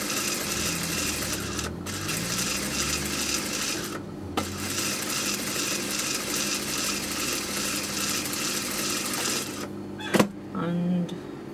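A sewing machine stitches a trimmed neckline, double-tacking and then sewing back along the seam, its steady motor whir running continuously and close, with brief pauses and a short mechanical clunk near the end.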